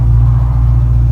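A 1972 Ford Mach 1 V8 running steadily with a deep, loud low rumble, held evenly through a short stretch with no clear rise in pitch, no voices.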